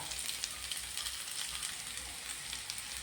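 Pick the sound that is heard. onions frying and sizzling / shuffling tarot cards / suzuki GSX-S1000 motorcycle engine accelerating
onions frying and sizzling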